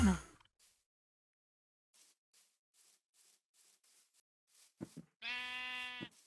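Sheep in a video game give a few faint soft sounds, then one loud, sustained nasal bleat near the end, with quiet breathy noises between.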